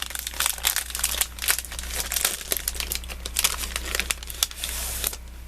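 Sheets of paper ephemera crinkle and rustle continuously up close while being handled, with a steady low hum underneath.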